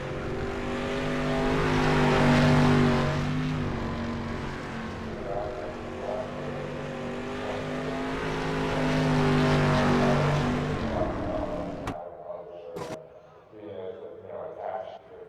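Micro and street stock race cars roar together in a sustained, loud engine drone with shifting pitch, swelling and fading for about twelve seconds before cutting to quieter crowd and voices at the end; people talk throughout.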